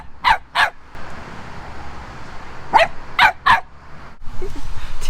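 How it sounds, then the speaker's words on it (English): A little puppy barks at a wild camping spot by Girdev Lake, giving two sharp yaps, then three more after a pause, close and loud over quiet outdoor background. "There's a little puppy here"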